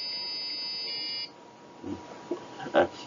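A small speaker driven by an Arduino gives a steady electronic buzzing tone for over a second and then cuts off, followed by faint clicks and handling noises in a quiet room.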